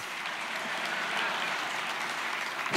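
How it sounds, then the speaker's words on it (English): Modest applause from a talk audience greets a volunteer, a fairly faint, even patter of clapping heard from a distance and holding steady to the end. "You can give applause to Nora"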